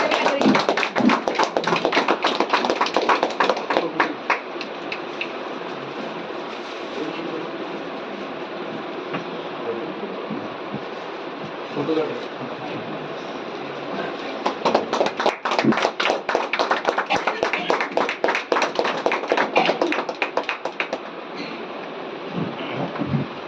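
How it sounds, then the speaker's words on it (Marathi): Guests clapping at a retirement felicitation, a long, dense round of applause that thins in the middle and swells again before fading. "सर्वांनी उभं राहून टाळ्या वाजवायच्या."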